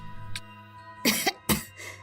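A woman's persistent cough in a dramatized story, a small hack followed by two loud, close, rasping coughs about half a second apart and a weaker one after, over a low steady background hum.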